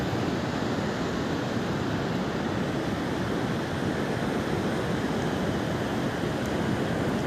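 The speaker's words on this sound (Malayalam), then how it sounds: "വെള്ളം കടലിൽ വന്ന് പതിക്കുന്ന കാഴ്ചയാണ് ഇപ്പോൾ നമ്മൾ കണ്ടുകൊണ്ടിരിക്കുന്നത്" Rough monsoon sea surf crashes continuously, a dense, loud roar of breaking waves with wind buffeting the microphone throughout, no voices.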